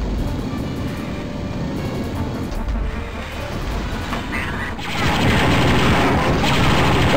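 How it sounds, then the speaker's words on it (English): Rapid blaster fire in Star Wars: Dark Forces makes a dense, continuous rattling barrage that grows noticeably louder and harsher partway through, with no speech. "Why am I firing so fast?"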